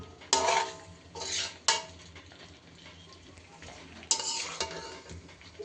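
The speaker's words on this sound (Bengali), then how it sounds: "ভেজে করা চিকেনগুলো এখন দিয়ে দিলাম আর এই মশলাটার মধ্যে সুন্দর করে কষাচ্ছি" Pieces of fried chicken stirred in masala in a pan, with bursts of scraping and metal clatter from a spatula against the pan and a faint sizzle in between, close and without speech.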